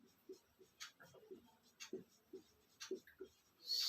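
Pen writing on paper during a trigonometry lesson, quiet close scratches and taps in short uneven strokes, ending in a brief louder rustle.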